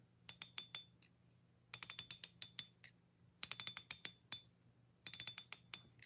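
The drag clicker of a Shimano Vanquish 2500 spinning fishing reel gives crisp, rapid ratcheting clicks in four short bursts with brief pauses, close and fairly quiet.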